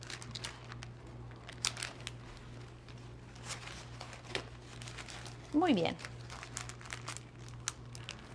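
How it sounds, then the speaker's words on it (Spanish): Fresh herbs are wrapped in a paper towel and slipped into a plastic bag, giving soft crinkling and rustling with one louder crinkle partway through, under a person talking. "Toma su hierba, la envuelve en una toalla de papel"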